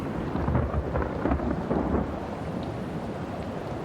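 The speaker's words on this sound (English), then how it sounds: "The killer hurricane is battering Houma with all its force" Steady heavy rain and rumbling thunder from a hurricane battering Houma, with wind noise, a continuous loud roar with no voices.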